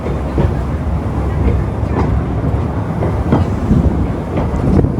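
Small toy train on Busselton Jetty in Western Australia running close by, a loud continuous rumble with rhythmic clickety-clack of wheels and wind buffeting the microphone.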